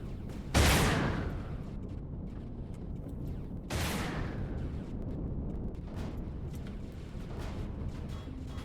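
Two heavy booming blasts of turret fire in Empyrion: Reforged Eden 2 at a drone combat site, one near the start and another a few seconds later, each trailing off into a low rumbling background.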